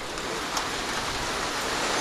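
Heavy rain pouring down outside, a dense, steady hiss of drops drumming on surfaces, constant and loud with no voices.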